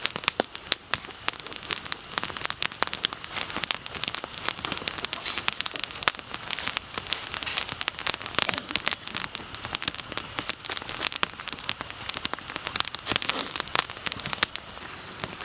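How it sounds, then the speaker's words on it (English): Small crackling campfire built for cooking dinner outdoors in Appalachia, dense rapid pops and snaps over a soft hiss, close and steady throughout with no talking. "So we built a little fire to cook our dinner on."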